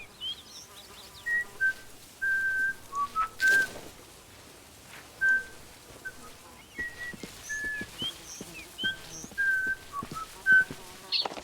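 Short melodic whistled phrases recur throughout exploration in the mini-MMO video game Book of Travels, clear and moderately loud over a quiet background with faint insect-like buzzing.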